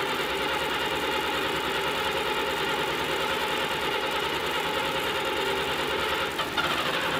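An old fire engine's engine running just after a cold start, held on the gas while it warms up, a steady loud mid-pitched rumble with knocking texture throughout and no voices.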